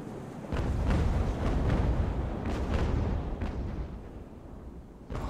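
Sailing warships trading cannon fire in Ultimate Admiral: Age of Sail, a rolling series of deep booms and broadside thuds, some near and some distant, sustained over a rumbling naval battle with no voices.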